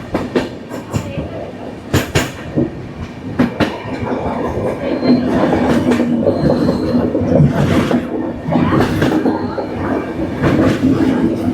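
The Kirandul passenger train, number 58501, rolls along the Visakhapatnam–Araku hill line through a curve. Its wheels give a steady, loud rumble with rhythmic clicking and short bursts of sharper clatter over the joints, and no voices are heard.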